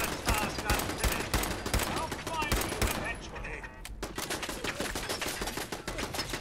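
Fallout 4 gunfire comes in rapid, dense bursts of close shots, with a voice talking over part of it; the firing thins briefly and then continues.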